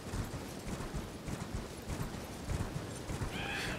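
Horse hooves clip-clop at a steady gallop with a whinny, from the Elden Ring video game, continuous and fairly loud throughout with no talk over it.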